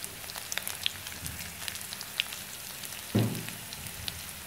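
Chillies fry quietly in hot oil in a pan, a soft continuous sizzle with scattered faint pops and one louder clatter partway through.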